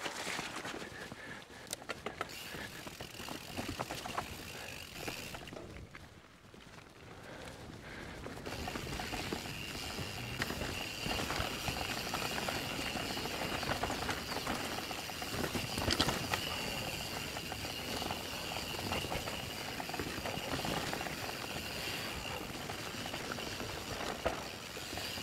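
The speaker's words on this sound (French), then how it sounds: "Petite rivière." A small river rushes steadily along a mountain bike trail, a broad continuous wash of flowing water with a brief quieter dip early on, otherwise even and fairly close.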